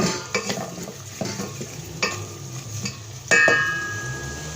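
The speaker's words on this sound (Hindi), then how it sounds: "इंग्रेडिएंट ऐड करके इसे मिक्स करेंगे।" Mutton pulao ingredients being stirred in a pot, a spoon scraping and knocking against metal in uneven strokes over a low sizzle, with one louder clank near the end.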